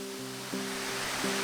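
Waterfall pouring into a pool in the Blue Mountains, a steady broadband rushing roar heard close and alone, with a faint low hum underneath.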